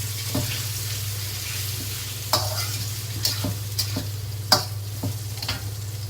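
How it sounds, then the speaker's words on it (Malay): Meat frying in smoking-hot oil over a high flame, a steady loud sizzle with intermittent scraping stirs and sharp clacks of a utensil against the pan. "Goreng daging kena buka api kuat sekali."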